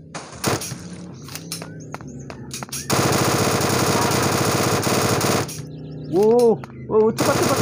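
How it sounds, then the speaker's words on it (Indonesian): Automatic gunfire in the Free Fire mobile battle game: scattered single shots, then a dense sustained burst of machine-gun fire lasting a few seconds, followed by brief whooshing game effects. "Wah, ada banyak musuh di sini. Kita tembak."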